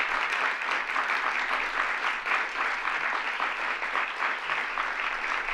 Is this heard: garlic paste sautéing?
no